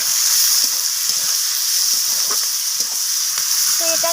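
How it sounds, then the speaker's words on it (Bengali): Onion and capsicum frying in a pan for a chicken dish, a loud, close, continuous sizzle with a few soft stirring scrapes, and no talking. "তো পেঁয়াজ আর ক্যাপসিকামটাকে আমি লালচে করে ভেজে নিই।"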